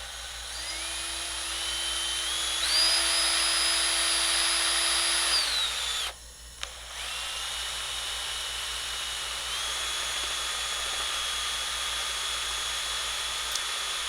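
A small drill whines high and steady while boring a hole for a switch into an Ibanez GIO guitar body, loud and close, rising in pitch, then stopping and restarting more quietly.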